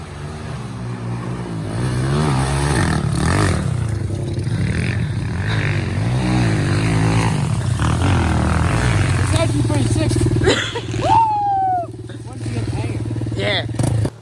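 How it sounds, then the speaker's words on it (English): An SSR110 manual Chinese pit bike engine revs hard at full throttle, loud and close, climbing and falling through gears with wind rush, and a voice shouts briefly near the end. "Straight up pit bike race, Jeremy."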